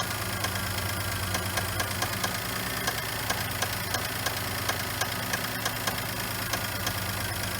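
A Geo Metro engine idles steadily with a regular metallic knocking ticking through the hum, close by and fairly quiet.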